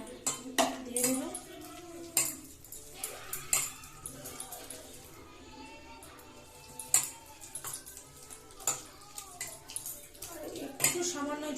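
Gram flour (besan) batter stirred in a bowl for besan chilli, with repeated sharp clinks of a spoon against the bowl in an irregular rhythm, close by, while a person talks throughout.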